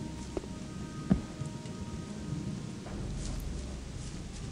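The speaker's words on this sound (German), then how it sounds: "da geht der Regen kurz weiter" Rain and thunder in the video game Gothic 1: a steady soft patter of rain under low rumbling thunder, with one sharper crack early on and a deeper roll toward the end.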